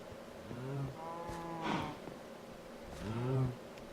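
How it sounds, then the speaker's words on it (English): Cows moo in a Minecraft cow farm, two drawn-out calls separated by a pause, with a short tone in between over faint background hum. "And this is a nano cow farm"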